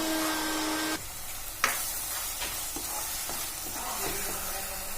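Masala spices sizzle and fry in a pan, a bright crackling hiss that cuts off abruptly, followed by a sharp scrape of stirring and quieter, intermittent sizzling with occasional utensil clicks.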